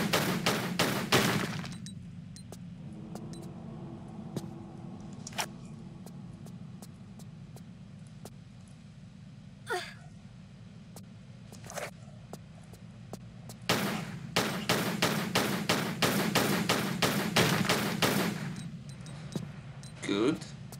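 Gunfire aimed at a wall in Tomb Raider, a few sharp broadband bursts standing out over a low steady game hum, with a longer cluster of rapid shots near the end.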